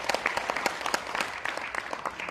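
Audience at a Vietnam War veterans' rally and lecture applauds steadily, a dense, even patter of many hands clapping throughout.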